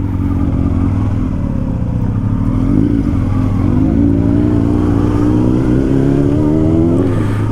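Suzuki Hayabusa 1300cc motorcycle revving hard at high speed, a loud continuous engine roar whose pitch climbs and swells through the revs, heard close with wind rush and no talking.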